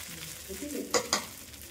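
A large dosa cooks on a big pan with a soft, steady sizzle close by, broken by two sharp scraping clicks from a spatula near the middle.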